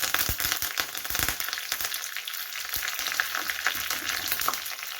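Mustard seeds, two dry chillies and curry leaves fry in hot oil, making a continuous close sizzle dotted with sharp popping crackles, strongest in the first second.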